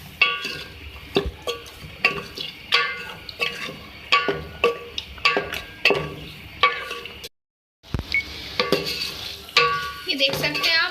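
Chicken being fried with yogurt in a pan while it is stirred, with repeated scraping and clinking of a utensil against the pan over a soft sizzle, briefly pausing before resuming.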